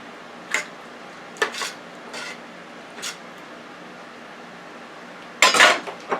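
Rice and vegetables being mixed in a pan, giving a few scattered scraping and clinking spoon strokes with a louder burst of stirring near the end, close and fairly quiet with no talking.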